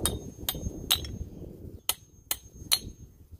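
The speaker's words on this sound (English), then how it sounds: "you do want to be a little gentle because you are hammering on a bearing." Sharp metallic hammer strikes knocking wheel studs out of a rear hub on a C5 Corvette, about six blows at irregular intervals, close and ringing, over low background rumble.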